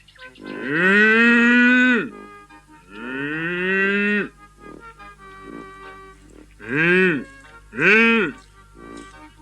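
Cattle on a farm moo loudly and close by, with two long drawn-out calls followed by two shorter ones, alone with no talk over them.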